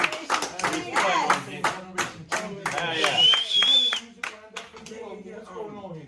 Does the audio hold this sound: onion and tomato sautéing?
no